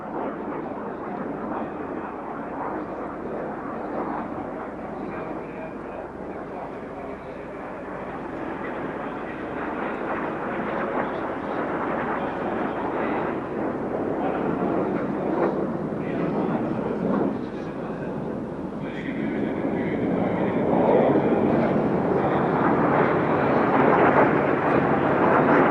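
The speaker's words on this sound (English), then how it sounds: "The Mackie is powered by the Rolls-Royce Viper turbojet." A Macchi jet trainer powered by a Rolls-Royce Viper turbojet passes at an airshow, its broad roaring jet noise steady and sustained, swelling louder toward the end.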